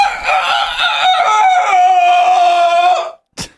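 A man imitates a rooster's crow with his voice, a loud drawn-out call lasting about three seconds that holds a wavering pitch before cutting off, followed by a brief sharp burst.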